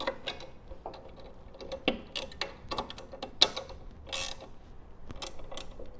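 Ratchet wrench snugging the tilt bolts on a screen printing press, heard as close, irregular bursts of clicking and metallic ratcheting with occasional creaks, alone without talk.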